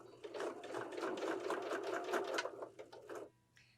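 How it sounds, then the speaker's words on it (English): A sewing machine stitches pillow piping, folded fabric over cording, running in a fast steady rattling burst for about three seconds before stopping, close and fairly quiet. "So we are going to fold it over and stitch."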